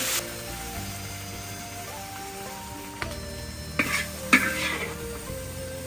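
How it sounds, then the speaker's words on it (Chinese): Green peppers and minced garlic stir-fried in a wok, with a steady sizzle throughout and a few sharp scraping tosses of the spatula near the end, no talking. "这个蒜末一定要出锅前再放，不要提前放，在锅里翻炒个十秒钟出锅"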